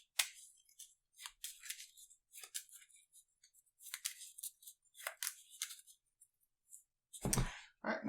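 A deck of cards for the Arkham Horror card game is shuffled by hand: a quiet, close series of short riffling and sliding bursts at an irregular pace, ending with a louder fuller riffle.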